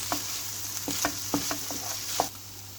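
Chicken filling with tomato paste is sautéed in a pan, giving a soft continuous sizzle under repeated scraping knocks of a spoon stirring, close and quiet.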